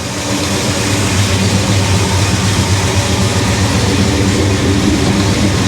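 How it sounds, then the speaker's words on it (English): Loud, deep exhaust rumble from a street machine's engine with open cutouts, a steady heavy drone filling the whole stretch without pause. "You want to hear up the exhaust one more time?"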